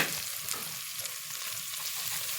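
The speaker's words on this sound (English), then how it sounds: "we're just gonna give this little guy here a stir" White beans and bacon are stirred in a Dutch oven, with a continuous hissing sizzle and soft, low scrapes from the spoon.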